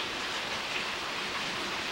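Steady, dense rain from the Silent Hill Downpour video game, a continuous hiss without breaks or voices, fairly loud and even throughout.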